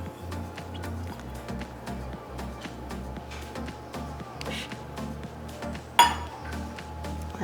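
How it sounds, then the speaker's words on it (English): A spatula scrapes almond butter into a high-speed blender jar with light clinks and scraping taps over a steady background hum, and one sharp clink stands out near the end. "Use a spatula, make sure you get all of this goodness out."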